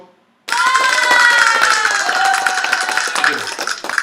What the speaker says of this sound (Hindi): बच्चों ने तालियां बजा दी हैं